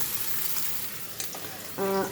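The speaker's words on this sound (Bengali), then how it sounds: "উচ্ছেটাকে আমি লাল করে ভেজে নেব" Bitter gourd with grated ginger fries in a pan, giving a continuous soft hiss of sizzling oil close by, and a short tonal sound cuts in at the very end.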